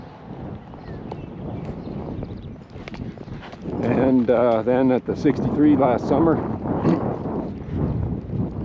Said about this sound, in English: I'm going to go ahead and just let the horse kick up to a lope